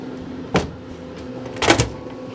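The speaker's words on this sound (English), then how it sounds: "So I'm gonna close these cabinet doors right now." Two wooden-sounding knocks about a second apart as the cabinet doors on a Pit Boss Brunswick vertical pellet smoker are shut, the second louder and fuller, with a steady low hum behind.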